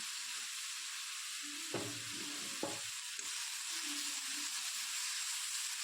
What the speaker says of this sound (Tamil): வெங்காயம் நல்லா வணங்கிடுச்சாங்க